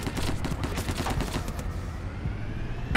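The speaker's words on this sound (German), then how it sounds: "Ich werd beschossen." Rapid gunfire crackles continuously in the DayZ video game, a dense run of close shots that thins out toward the end, with no talking.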